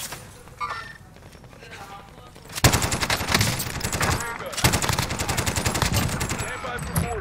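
Sustained automatic gunfire in the Call of Duty Warzone shooter game: two long, loud bursts of rapid shots hammering close up, after a quieter stretch of game ambience with voices underneath.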